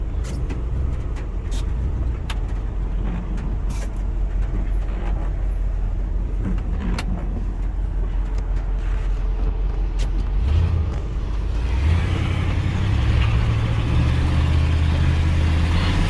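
A 1983 Ford F100 pickup with a 302 V8 and three-speed automatic running on the road, a steady low engine drone with a clear rise in engine pitch toward the end, heard from the cab.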